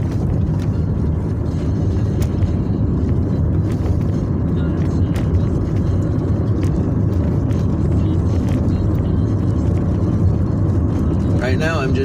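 A car cruises along a road around a lake, heard from inside as a continuous low rumble of engine and road noise that stays even and unbroken.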